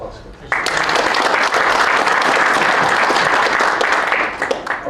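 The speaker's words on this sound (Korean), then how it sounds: "박수 부탁드립니다." Applause breaks out abruptly after a brief quieter moment at a defense-industry meeting with Korea's procurement agency chief, then continues as a loud, steady wash of many hands before easing slightly at the end.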